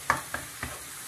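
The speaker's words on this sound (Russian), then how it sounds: "Сосиски мы будем жарить на большом огне" Precooked sausages fry in a pan over high heat, giving a steady sizzle with three short spattering pops close by, and no talking.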